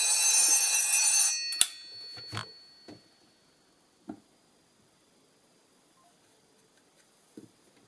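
A vintage Socotel S63 telephone's mechanical bell rings loudly and steadily for just over a second, then cuts off, followed by a few faint clicks and knocks in near silence.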